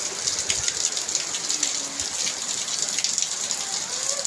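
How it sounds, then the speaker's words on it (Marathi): Heavy rain pours down steadily in a dense, hissing wash that stays loud and constant throughout, with no voices. "पाऊस बघा आज डेंजर आणि जोरदार पाऊस आहे"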